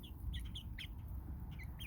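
Baby chicks, Rhode Island Reds and Australorps among them, peep in quick, high chirps, several overlapping in a brooder, heard faintly over a low steady background hum.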